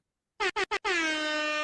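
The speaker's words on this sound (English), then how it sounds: "Give her a couple of air horns for that one." Air horn sound effect, three short sharp blasts followed by one long sustained blare, loud and isolated against silence.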